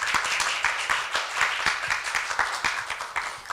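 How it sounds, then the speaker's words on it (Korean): Audience applause at a Korea University liberal arts festival event greets a speaker, an even stretch of many hands clapping with some irregular louder claps, fairly close and sustained. "모두 큰 박수로 맞이해 주시기 바랍니다."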